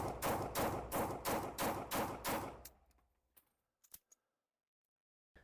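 Norinco NP34 pistol fired in a quick string of about eight loud, evenly spaced shots, then a pause and a few scattered faint clicks and metallic knocks.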